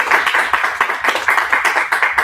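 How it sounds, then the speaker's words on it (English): Brisk rhythmic clapping from an open mic crowd, a short close burst of applause with distinct individual claps at a steady quick pace. "let's give a big, big,"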